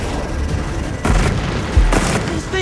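Bombs dropped by drones in Marvel's Spider-Man 2 burst in loud, close booms, two heavy blasts about a second apart over a dense, noisy game soundscape.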